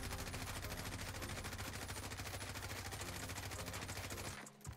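M4A1 assault rifle in Warzone firing one sustained full-auto burst, rapid evenly spaced shots for over four seconds, loud and close, cutting off abruptly near the end.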